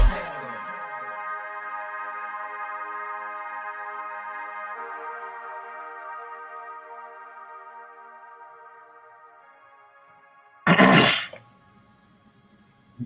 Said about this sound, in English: You ain't just clear your throat on my podcast, did you?